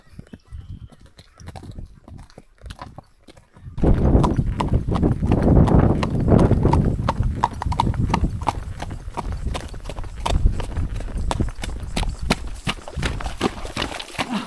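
A horse trotting outdoors on a 10 km ride sets up a steady, close clip-clop of hooves. Quiet background comes first, then the hoofbeats start abruptly near four seconds and keep a brisk rhythm.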